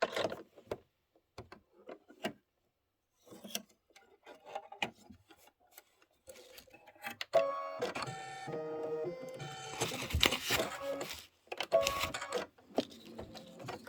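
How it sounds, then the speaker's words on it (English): Embroidery machine stitching a jack-o'-lantern face placement line in black thread: after a few quiet handling clicks, a dense, steady mechanical whir with rapid needle ticks runs close and loud for several seconds, pausing briefly before resuming. "Stitch out the jack-o'-lantern face placement line."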